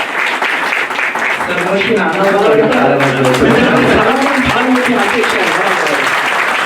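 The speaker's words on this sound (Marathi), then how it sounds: "आपण सर्वांनी टाळ्या वाजवून सर्वांचं एकदा" Steady applause fills the hall at a New English School Rui farewell for the 1992 HSC batch, a sustained dense clapping from the gathered audience with a voice speaking over it.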